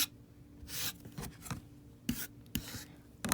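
A blade slices through quilting fabric laid along a ruler, giving several short, close rasping strokes separated by brief pauses, with no talking.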